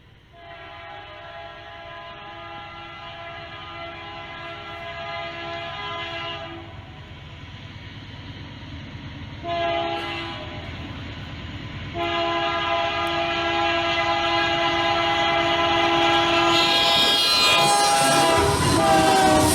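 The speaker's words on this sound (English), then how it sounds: "I set out to see CSX G103, which had a CP AC4400 CWM leading" CSX freight train G103 rumbles past with a CP AC4400CW rebuild and a BNSF ES44C4 leading, horn sounding in long held blasts that swell louder toward the end as the locomotives draw near.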